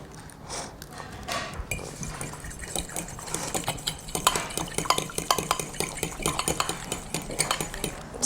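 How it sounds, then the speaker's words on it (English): Eggs being cracked and whisked into an egg mixture for black pudding Scotch eggs, with a few knocks and clinks of shell and bowl at first, then quick rhythmic beating of utensil against the bowl, close and steady. "We need to make an egg mixture, so we just need to break our eggs."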